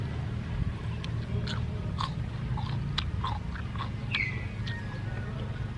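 Raw bitter melon being bitten and chewed with crunchy snaps, eaten alongside papaya salad; close, steady crunching and mouth sounds over a low background hum.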